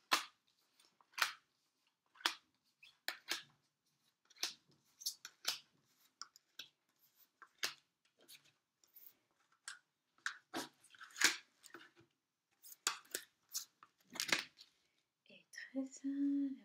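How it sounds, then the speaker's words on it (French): Grand Jeu de Mademoiselle Lenormand cards laid out one at a time, giving crisp, irregular slaps and snaps against a quiet background, with a slightly denser rustle near the end and no talking. "On va disposer les cartes. Le grand jeu de Mademoiselle Lenormand."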